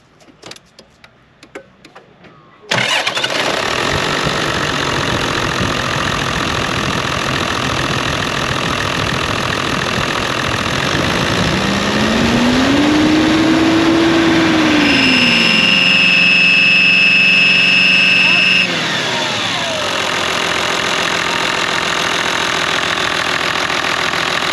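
A car engine cranks and fires, then runs loud and steady close by, rising in pitch as it revs before settling back to a lower idle, with a faint belt whine layered over it.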